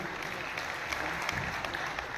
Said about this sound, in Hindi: अपने पुत्र का सम्मान ग्रहण करने के लिए जोरदार तालियों से अभिवादन करेंगे